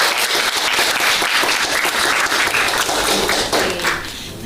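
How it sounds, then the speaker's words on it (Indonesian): Classroom students clapping together during an Indonesian lesson, a dense, steady burst of applause close by that fills the whole stretch and eases slightly near the end. "Mari kita tepuk tangan untuk diri kita sendiri."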